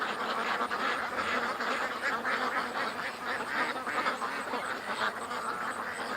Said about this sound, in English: Like, I know the ducks,